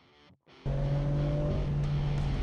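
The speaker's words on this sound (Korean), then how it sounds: "심장을 두드리는 엔진 소리와 함께 레이스가 시작됩니다" Loud, sustained engine roar from racing cars at the start of a Super Race Championship final round, starting with a brief quieter rev and a short drop before the full-throttle roar kicks in.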